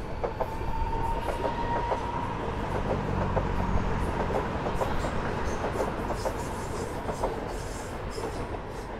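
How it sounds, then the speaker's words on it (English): A Sydney Metro train pulls out of Platform 2 at a station, a steady rolling rumble with rhythmic clickety-clack of wheels over track joints and faint squeal, heard from the front of another train and sustained throughout. "Look out for the train leaving Platform 2."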